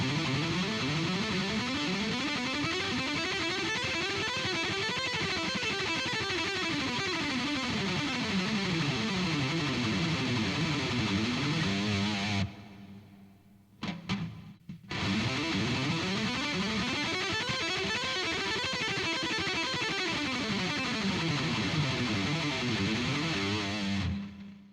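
Electric guitar with distortion plays a two-string repeating scale pattern, a steady run of notes climbing and falling in arcs, loud and continuous, with a brief break near the middle before the pattern resumes.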